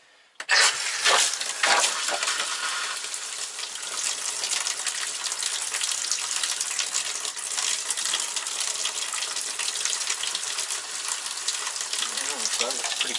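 Shower in a travel trailer running while air is purged from the water lines after de-winterizing, a steady loud hiss of spraying water with brief sputters at the start, continuing throughout.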